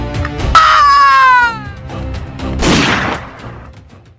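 In an audio drama about an attack by dogs, a shrill, wavering scream rings out, then a harsh, noisy crash-like burst follows amid fainter clatter.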